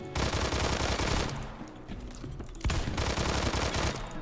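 UMP40 submachine gun firing in Phantom Forces, rapid sustained bursts of automatic gunfire with a brief pause midway before the shooting resumes, loud and close.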